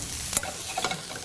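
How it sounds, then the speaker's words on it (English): Mushrooms added to a hot frying pan hiss with a soft, steady sizzle, broken by a few brief stirring clatters, close by with no talk. "If it's just at the right temperature, I get that lovely little sizzle."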